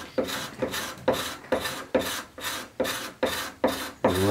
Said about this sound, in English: get that cabinet scraper in your hand